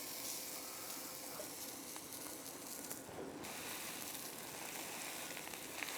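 Olive-oil-rubbed focaccia sizzling steadily on a hot grill, a continuous broad hiss and crackle, close and even in level throughout with no talking.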